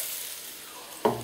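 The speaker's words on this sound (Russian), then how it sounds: "В общем, лучок немножко обжариваем" Bacon and onion fry in a pan on a stove, a soft steady sizzle that flares into a louder crackle for a moment near the end, with no talking.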